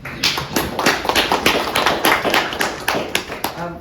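Scattered, uneven hand claps from a modest audience at a state senate candidate forum, close and fairly loud, a few people clapping for several seconds.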